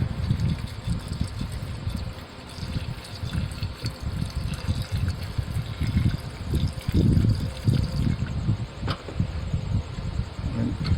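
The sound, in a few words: rinsing scrap gold refining residue with water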